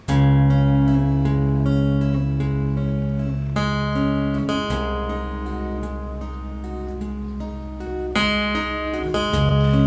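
A Chapman Stick plays a classical-style arrangement, sustained bass notes and chords ringing under a melody, continuous and fairly loud.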